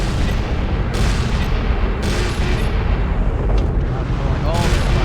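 Continuous heavy gunfire and booming blasts from a team-based shooter video game, loud and dense throughout with a few sharper bursts, while players talk over it.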